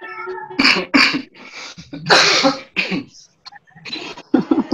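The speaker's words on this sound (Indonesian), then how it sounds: "Kau lagi batuk ya, hati-hati." Several sharp, broadband coughs in short bursts, close and fairly loud, with brief pauses between them and faint voice-like sounds nearby.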